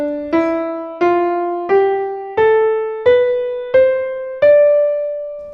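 A melody in D Dorian mode rising note by note, seven clean, evenly spaced plucked or keyed tones that climb stepwise, each decaying before the next, loud and alone.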